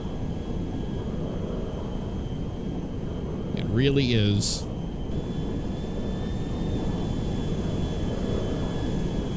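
Airbus A310-300 jet airliner in GTA 5 at cruise, a steady broadband engine roar with a faint high whine running throughout, briefly overlaid by a short game sound and someone speaking.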